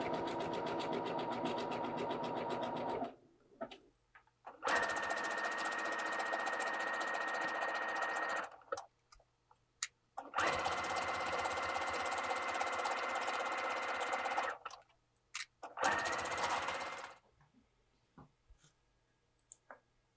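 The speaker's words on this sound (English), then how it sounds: "Because I'm sewing knits on my sewing machine, I'm going to use a small zigzag stitch." A sewing machine runs a small zigzag stitch on knit fabric in several steady bursts of rapid mechanical stitching, separated by short pauses and a few soft clicks.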